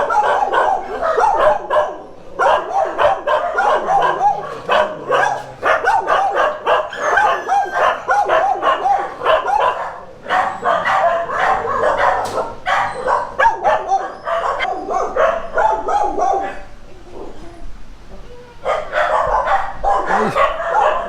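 Several dogs at an animal welfare clinic in the Philippines bark and yip continuously and excitedly, close and loud, with brief whimpers between the volleys.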